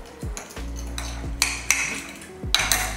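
Utensils mixing avocado dressing through a salad, with repeated clinks and scrapes against the bowl in an uneven rhythm, close and fairly clear.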